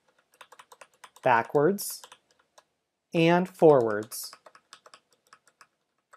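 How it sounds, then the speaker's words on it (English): Rapid clicking of computer keyboard keys as someone types commands in a Linux terminal, light scattered keystrokes around two short bursts of a man's speech. "as I type."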